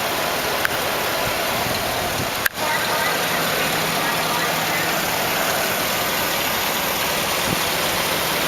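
The 6.2-liter V8 of a 2008 Hummer H2 Southern Comfort idles with its hood open, a steady, even broadband rumble heard up close with a single sharp click partway through.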